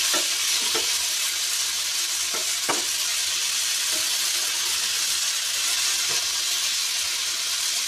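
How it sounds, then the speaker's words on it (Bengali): Chopped tomatoes and vegetables sizzling in a pan for a spicy small-fish curry, a loud, steady hiss of frying throughout with occasional knocks and scrapes of a spatula. "তো টমেটো দিয়েও বেশ কিছুক্ষণ নাড়াচাড়া করে নেব"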